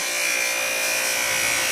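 A steady, high-pitched whirring grind of a small power sanding disc held against bone while carving a fish hook, continuous and close without pause.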